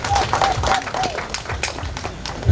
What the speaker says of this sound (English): We clap for Mighty Father.